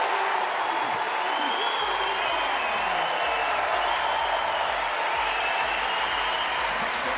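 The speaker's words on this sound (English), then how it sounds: "Just listen to the welcome from this crowd in Glasgow" A large crowd in Glasgow cheers and applauds continuously at the women's 1500m final of the 2019 European Indoor Championships, a dense roar of clapping and shouting filling the space.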